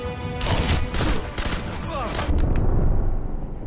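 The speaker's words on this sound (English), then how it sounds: "Time to pull out the Thompson and go rush these dudes." Dense, rapid automatic gunfire from a Thompson submachine gun in the World War II shooter Sniper Elite V2, loud and continuous with sharp bursts and booms, mixed with game combat noise.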